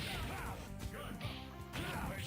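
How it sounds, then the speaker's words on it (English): Heavy smash and thwack impacts as Hulk gets hit in the Marvel vs. Capcom fighting game, several loud crunching blows in quick succession with brief swooshes between them. "Hulk just got smashed."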